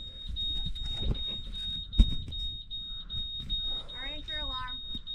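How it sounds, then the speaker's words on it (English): A boat's anchor alarm gives a steady, high, repeated electronic beep that runs through the whole stretch, with people talking over it and a sharp knock partway through. "Our anchor alarm."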